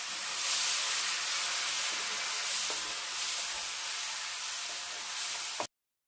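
Vinegar poured into hot chili powder in a pan hisses and sizzles loudly and steadily, a dense close spray of sound that cuts off abruptly.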